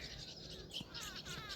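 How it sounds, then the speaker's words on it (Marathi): Young birds chirp from a flowering tree on a calm village morning, a thin, continuous twitter of high calls with a brief louder note midway, moderately near and steady throughout. "यांचा पिल्लाचा किलबिलाट सकाळी सकाळी या फुलांच्या झाडावर पाखरं बसलेले आहेत."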